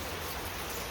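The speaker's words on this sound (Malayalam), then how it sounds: "അപ്പോൾ മൊത്തത്തിൽ നല്ല മഴ കേട്ടോ" Rain falls steadily as a soft, even hiss that continues without a break and stays fairly faint throughout.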